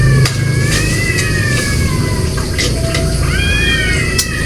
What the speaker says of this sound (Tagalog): Ang daming pusa.